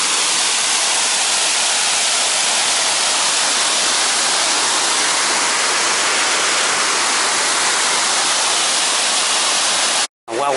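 Loud, steady rushing water roars without pause at Gowbarrow, a broad wash of tumbling rapids and waterfalls, cut off abruptly near the end.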